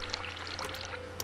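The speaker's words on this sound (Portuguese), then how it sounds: "Tem uma torneira aberta aqui também." Water runs steadily from an open tap in The Cat Lady video game, a continuous close pouring hiss that holds even for the whole moment.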